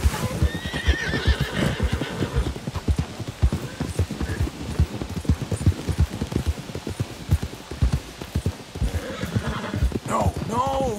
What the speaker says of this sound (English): Damn, look at that horse.